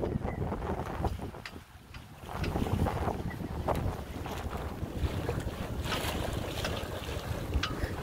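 Gusting wind of about 15 knots over a Compac 19 sailboat with a reefed mainsail, sailing overland waters, a steady broadband rush of wind buffeting the microphone with a brief lull, alone without talk.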